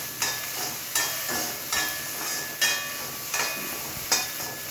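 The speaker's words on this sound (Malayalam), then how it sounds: "വെണ്ടയ്ക്ക ഒന്ന് വഴറ്റി വരുന്നത് വരെ ഇളക്കി കൊടുക്കുക" Okra sautéing in a pan sizzles steadily while a spoon stirs it, giving scraping strokes at regular intervals of roughly a second, close and moderately loud.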